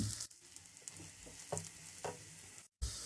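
Butter tadka for chana dal frying gently over a low flame, a quiet steady sizzle with a few spoon scrapes and a brief cut near the end.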